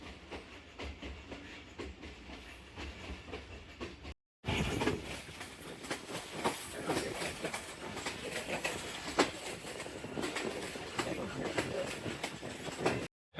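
A slow passenger train between Lahore and Narowal pulls away from a station stop, its wheels clattering steadily and the carriages rumbling close and loud, with a brief cut near the start and birds chirping faintly in the background.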